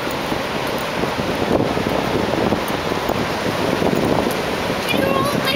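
Ocean waves washing onto a beach, a steady loud rushing surf with wind noise on the microphone, while people talk nearby.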